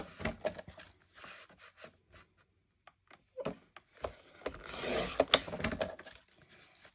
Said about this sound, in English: So let's cut our two 1-inch strips off first and get rid of those.